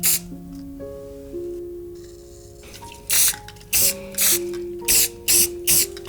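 Short bursts of a spray can hissing onto cardboard, six or so quick sprays in an uneven rhythm, close and crisp, preceded by quieter rattles and faint tones.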